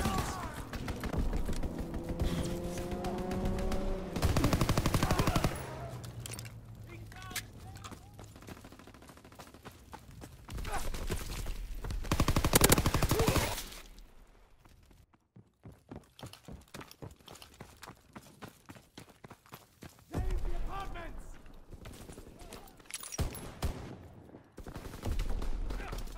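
Enemy aircraft strafing run in Call of Duty WWII, heard as loud bursts of gunfire followed by a rapid train of evenly spaced shots, with heavy blasts and stretches of quieter battle noise between them.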